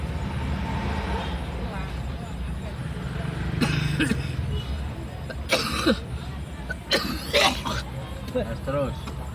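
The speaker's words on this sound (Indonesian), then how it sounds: "batuk." A man riding in a vehicle coughs in several short harsh bursts spread across the stretch, mixed with talking over a steady low road rumble.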